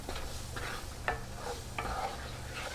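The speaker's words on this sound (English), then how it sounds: "we're just going to let our chicken cook for a little bit" Chicken cooking in a skillet, with a quiet, steady sizzle and occasional utensil stirring scrapes, heard close and faint with no voices.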